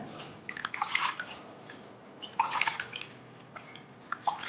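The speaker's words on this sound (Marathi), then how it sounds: "आता आंबे हे छान पाण्याने स्वच्छ धुवून घेऊ" Quiet bursts of water splashing and dripping as mangoes are rinsed by hand in a basin, with short pauses between handfuls.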